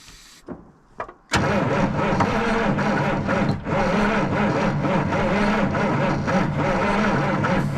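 After a few clanks, the diesel engine of a 1977 Peterbilt 359 truck that sat unused for 20 years cranks and catches, then runs at a loud, rough, steady idle close by.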